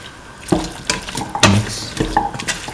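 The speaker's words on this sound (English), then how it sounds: "Now put in the potato pieces." Potato pieces tumble into a frying pan for a beef, potato and coconut milk rice dish, giving a few sharp clattering impacts and brief scraping stirs over a soft background sizzle, close and fairly loud.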